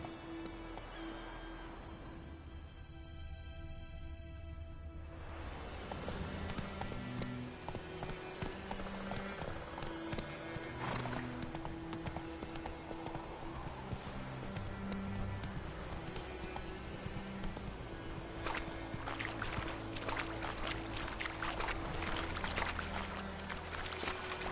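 Steady rhythmic hoofbeats of the horse Roach galloping in The Witcher 3, continuous clip-clop over ambient game music and wind, loud and close throughout.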